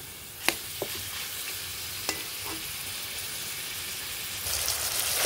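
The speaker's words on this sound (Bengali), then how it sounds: "এই যে মাংসটা বেশ সুন্দর করে আমি পেঁয়াজ রসুন এগুলো সাথে ভাজা ভাজা করে নিয়েছি" Meat frying with onion and garlic makes a continuous sizzle, with a few sharp utensil knocks and scrapes from stirring early on and the hiss rising louder near the end.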